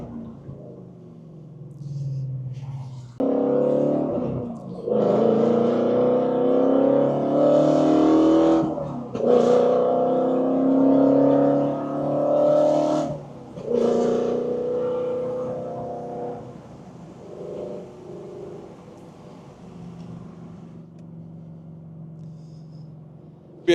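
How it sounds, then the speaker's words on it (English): A 2018 Ford Mustang GT350 with a Corsa Sport exhaust revs hard while driving, its loud engine roar climbing and surging through several gear pulls before easing off to a lower rumble. "But yeah, car sounds awesome."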